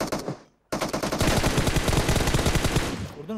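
Rapid automatic gunfire rattles in PUBG Mobile, with a short burst, a brief silence, then a long sustained stream of loud, close shots.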